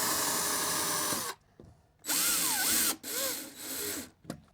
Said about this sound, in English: That's why we've got to pre-drill them.